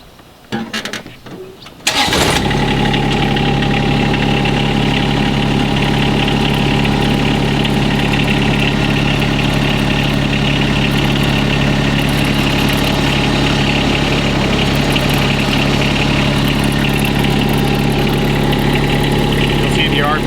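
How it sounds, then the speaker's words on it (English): A John Deere X758 diesel lawn tractor cranks briefly, then catches and settles into a loud, steady idle that runs unbroken close by. "So I'll start it up real quick. I'll show you how the deck moves and turn on the blades."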